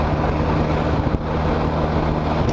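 A BMW RT touring motorcycle cruises along a road, its engine a steady close low drone buried in heavy wind rush, continuous throughout with no talk.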